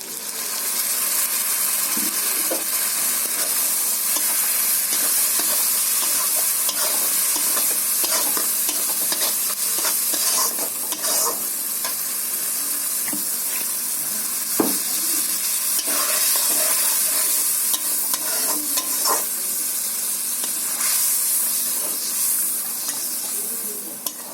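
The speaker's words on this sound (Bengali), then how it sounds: "তো এখন আমি কড়াইতে তেলের মধ্যে দিয়ে দেবো" A ground paste of mustard, green and red chilies and cumin fries in oil in a kadai for a bata fish dish, producing a loud, continuous sizzle with stirring scrapes throughout and no voices.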